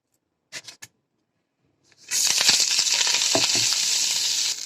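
Curry leaves dropped into hot oil in a pan burst into a loud, steady sizzle after a couple of brief clinks and a short silence, close and continuing unbroken with no talking.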